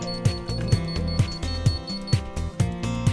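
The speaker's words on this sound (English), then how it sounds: "You'll note an audible beep as the table is lowered to the ground" A surgical table being lowered to the ground gives off a repeating electronic beep, sharp pulses at an even quick rhythm, loud and close over a steady tonal hum.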